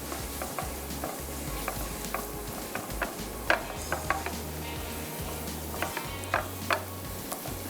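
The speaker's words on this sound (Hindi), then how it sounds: "लेकिन 30 से 40 सेकंड आपने सारे मसाले जो है भूनने।" Spices including coriander and cumin are roasted in a pan and stirred, a soft sizzle beneath scattered scraping and tapping of a spoon against the pan, close and fairly quiet.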